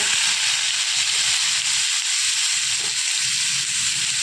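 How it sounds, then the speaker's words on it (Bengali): A dried red chilli and black cumin seeds crackle in hot oil, making a loud, steady, close hiss of sizzling that runs unbroken throughout. "এবার ওর মধ্যে দিয়ে দিচ্ছি একটা শুকনো লঙ্কা আর কালো জিরে ফোড়ন।"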